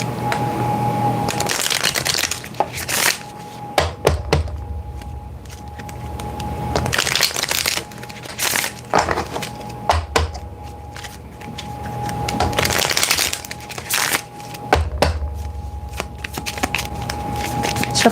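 Tarot cards shuffled in repeated bursts, crisp riffling and slapping of the deck close by, with pauses between rounds and a steady faint hum underneath.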